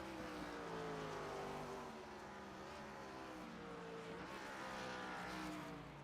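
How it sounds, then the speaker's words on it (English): Race car engines roar steadily in the iRacing sim at Suzuka Circuit, a sustained loud engine note with shifting pitch and a brief dip mid-way, no talk over it. "These cars making a fantastic sound."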